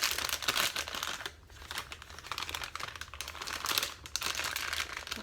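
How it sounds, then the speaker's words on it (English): Plastic piping bag fitted with a large star tip crinkling and rustling as it is opened and turned inside out, close and continuous for several seconds with no voices. "Going to open it up, and I'm going to turn it wrong side out."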